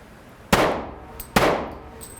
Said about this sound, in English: I'm going to shoot here on the right side now.